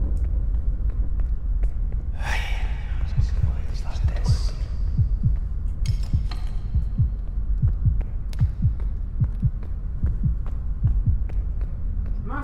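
A steady heartbeat throb from the horror game Forewarned, low repeated thumps pulsing about twice a second over a constant rumbling hum, with faint breathy noises and brief rustles on top.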